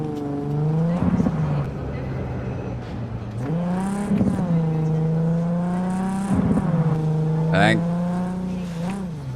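A car engine in Cyberpunk 2077 drones and revs up through several gear shifts, pitch climbing and dropping, with people talking over it.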